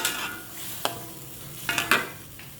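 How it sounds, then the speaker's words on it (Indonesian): Gulai lontong curry cooks in a pan with a low, gentle sizzle, broken by a few sharp clacks and scrapes of a spoon stirring against the metal, close and without speech. "kita masak dulu nih gulai lontong nih"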